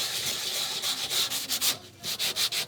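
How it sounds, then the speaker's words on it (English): Brisk back-and-forth strokes of a sanding block rasp across cardstock, close and steady, with a brief pause before the scraping resumes. "You gently sand off the top"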